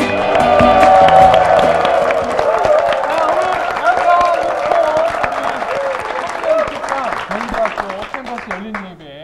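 Lecture-hall audience applauding to welcome a guest lecturer, dense sustained clapping with some cheering, loud and close, gradually thinning toward the end, with a host speaking over it.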